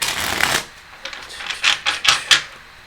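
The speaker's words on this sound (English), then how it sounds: "Sometimes they change because my shuffling isn't wonderful." Tarot cards being shuffled by hand, a burst of riffling followed by several short crisp flicks and slaps of the cards, close and fairly quiet with no talking.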